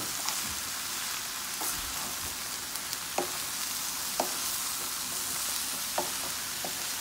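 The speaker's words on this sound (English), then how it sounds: "We're gonna give it a nice little stir, and this will melt down." Chinese okra, or gingee, frying in a pan. A steady soft sizzle runs throughout, with a spoon scraping and tapping now and then as it is stirred, close and fairly quiet, with no talking.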